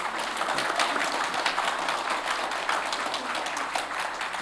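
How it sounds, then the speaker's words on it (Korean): A crowd claps steadily and loudly for two mayoral candidates at a Gunpo City local election debate in South Korea. The applause is continuous, with no break. "그러면 큰 박수 한번 부탁드리겠습니다"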